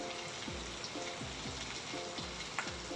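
Masala fries in a pan with a soft, steady sizzling hiss, broken by faint, regular low swishes from stirring every half second or so.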